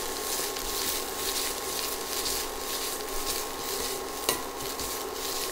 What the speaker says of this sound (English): Let's give it a good mix.